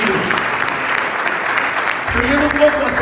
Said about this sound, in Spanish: No es para darle un aplauso al Señor en esta noche